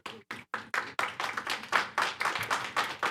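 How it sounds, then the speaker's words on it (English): An audience at a county school district board meeting claps in a short run of quick, fairly soft applause with no talk over it. "while I appreciate the encouragement that takes place through applause, it is inappropriate"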